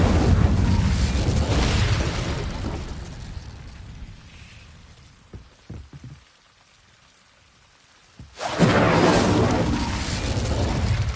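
In Hogwarts Legacy, the Incendio fire spell produces a loud roaring burst that fades into near silence, followed by a second sudden, sustained fiery whoosh.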